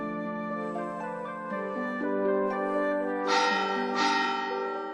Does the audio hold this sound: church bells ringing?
yes